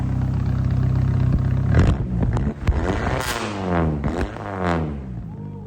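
A Plymouth Spirit engine with a modified, raspy exhaust barking through several sharp revs after a steady idle, each blip rising and falling quickly, close and fairly loud.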